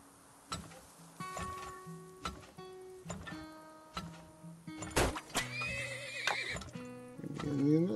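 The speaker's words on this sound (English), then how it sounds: "Maybe I need another horse there." Horse whinnies and clip-clopping hooves from the colony-management video game Turmoil, several short neighs in sequence over soft game effects, with a tonal burst near the end.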